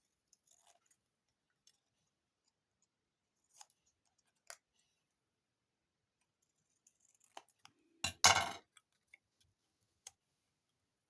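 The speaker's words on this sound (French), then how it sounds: "Ici, je vais découper une petite étiquette." Scissors snip through a small paper label for a handmade carnival card, a short burst of close, crisp cutting after scattered light clicks and taps of crafting tools in a quiet room.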